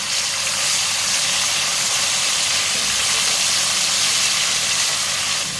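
Garlic-ginger paste frying with onions in a pan makes a loud, dense, unbroken hiss of sizzling oil, close and constant throughout.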